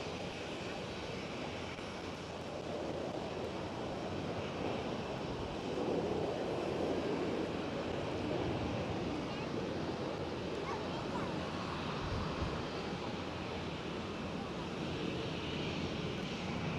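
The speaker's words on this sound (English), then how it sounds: "While Austrian Airlines with an E190 is departing." Austrian Airlines Embraer E190 jet departing Amsterdam Schiphol, a steady broadband engine roar that holds at moderate level throughout, with wind-like rumble and no distinct talk.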